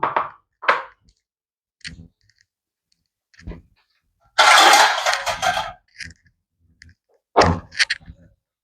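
A metal lid goes onto a pot of chicken curry in a home kitchen: scattered sharp clicks and knocks, then a longer clattering scrape as it settles, and a few more light taps, all close by.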